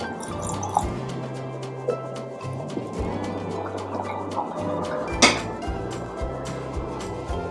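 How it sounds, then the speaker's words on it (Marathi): Extra water being added to moong dal flour batter in a kitchen bowl, soft drips and splashes with light clinks against the container, close and fairly quiet, no talking. "आता एक्स्ट्राचं पाणी ॲड करते।"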